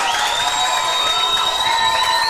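A packed stand of spectators roars and cheers at a football cup match, a dense, steady wall of crowd noise with some higher shouts riding on top.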